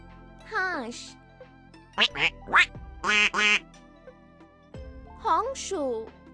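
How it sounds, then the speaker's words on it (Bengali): A duck quacks in several short, loud bursts clustered in the middle, between brief spoken voices at the start and end. "হাঁস"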